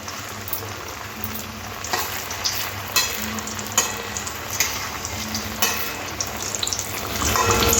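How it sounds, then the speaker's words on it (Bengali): Semolina snacks stuffed with potato deep-fry in hot oil with a steady bubbling sizzle, punctuated by occasional taps and scrapes of a utensil, growing louder at the end. "এবার আমি ভেজে নেব নাস্তাগুলো গরম তেলে একটা একটা করে দিয়ে খুব সুন্দর করে লাল লাল করে ভেজে নেবো"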